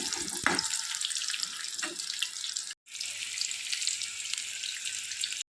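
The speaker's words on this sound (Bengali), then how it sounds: "উল্টে পাল্টে ভালো করে লাল করে ভেজে নিই" Pakoras sizzle steadily in hot oil as they are turned and fried until red, a dense continuous crackle with a brief pause midway.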